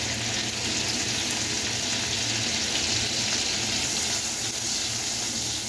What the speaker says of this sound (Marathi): मिरचीला पण चांगले फ्राय करून घेऊया, त्यांना जळून द्यायचं नाही.